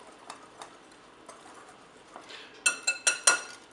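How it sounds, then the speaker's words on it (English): A small whisk stirs salt and baking powder into flour in a bowl, light scraping at first, then a quick run of sharp metallic clinks and taps against the bowl near the end. "I'm going to whisk up the salt and the baking powder into the flour"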